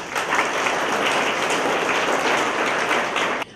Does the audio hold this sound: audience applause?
yes